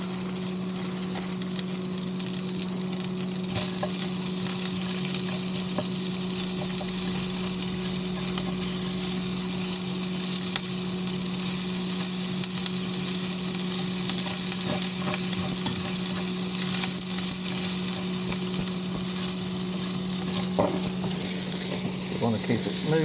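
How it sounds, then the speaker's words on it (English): Fried rice sizzles steadily in a pan on an induction cooktop inside an Airstream motorhome, a constant loud frying hiss with stirring scrapes and a steady electrical hum underneath, a voice talking briefly over it. "And now we're going to fry the rice."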